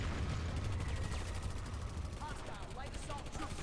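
Steady, dense video game gunfire rattles on continuously at moderate loudness, sounding like automatic weapons firing in a shooter match, with a voice faintly present underneath.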